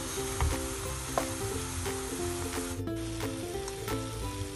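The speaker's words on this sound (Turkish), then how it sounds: "Şimdi püre haline getirmiş olduğum patateslerimi de içerisine ilave edeceğim." Mashed potatoes are added into a sauce in a pan while making a potato börek filling, giving a steady low sizzle with soft stirring and scraping, a few sharper knocks, and no talk.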